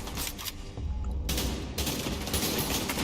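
Gunfire in the video game The Division 2 comes as dense, loud bursts of rapid shots that fill the clip, with a short lull in the middle before the firing resumes, and no voices over it.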